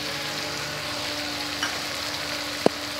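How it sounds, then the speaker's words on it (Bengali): Tomato puree hitting a hot pan while cooking chhanar dalna gives a steady, close sizzle that runs throughout, with a single sharp tap near the end. "এবার আমি এর মধ্যে টমেটো পিউরিটা দিয়ে দিলাম"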